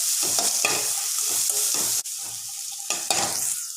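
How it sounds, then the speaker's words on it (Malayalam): Onions sautéing in a pan for wheat-flour gobi manchurian, a steady sizzle broken by repeated scraping stirs of a spatula, close and fairly loud with no talking. "നമ്മുടെ സവോള ഒന്ന് വഴന്ന് വന്നിട്ടുണ്ട്"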